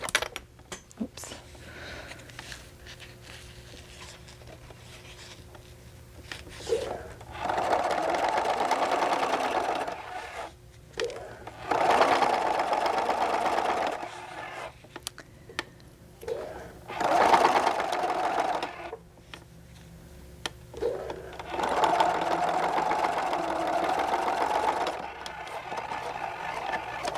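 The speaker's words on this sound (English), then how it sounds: "I'm going to sew top stitch on my lining side" A sewing machine top-stitches the lining side of a vinyl-window dumpling pouch in four loud, steady runs of several seconds each, separated by short pauses with a faint low hum underneath.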